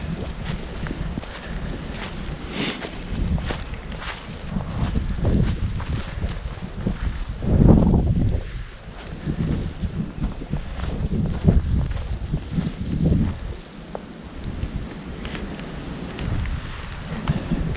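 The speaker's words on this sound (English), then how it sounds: "It's blowing pretty good" Strong wind gusts roar through snowy woods beside a stream, a loud, rushing buffeting that swells and eases, with heavy microphone wind noise throughout.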